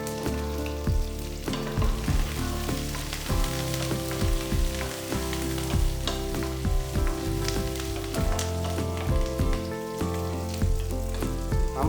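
Green chillies and curry leaves hit hot oil for Kerala-style beef roast, crackling loudly and densely up close with repeated bursts of spattering as the pan is stirred.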